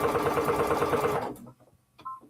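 A sewing machine runs in a steady rapid stitching rhythm while sewing a paper-pieced quilt seam, then stops abruptly, leaving a few faint clicks and a short soft tone afterward.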